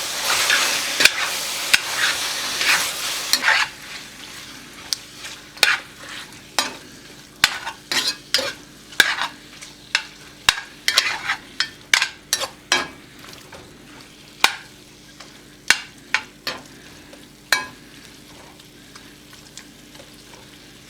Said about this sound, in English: Fat's starting to render a little oil.